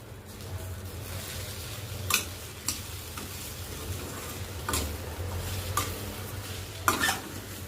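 Sheera with sugar being stirred in a pan, soft scraping and sizzling under a low steady hum, with a handful of sharper spoon knocks against the pan.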